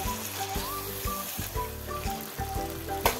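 Chicken gravy sizzles steadily in a pan while being stirred and mixed, a continuous frying crackle with rhythmic scraping strokes of the spoon and a faint tonal hum underneath.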